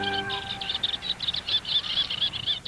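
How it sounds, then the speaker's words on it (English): Small migrant birds call from reed beds in rapid, repeated high chirps and trills, fairly close and continuous, against a soft outdoor background. "in early summer the beds echo to the calls of migrant birds"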